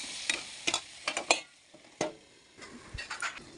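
Chicken pieces are stirred and sautéed in a pan for a Bengali chicken gravy, with a quick run of scraping spatula strokes and short bursts of sizzle, heard close and without speech.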